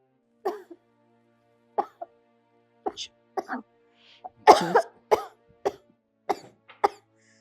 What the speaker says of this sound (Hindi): अरे तुझे दिखाई नहीं देता माँ को खांसी उठ रही है